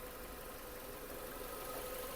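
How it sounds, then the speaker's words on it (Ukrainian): A Hyundai Tucson 2.0 gas/petrol engine idles with a steady, even hum and faint vibration, quiet and unchanging throughout. "робота двигуна."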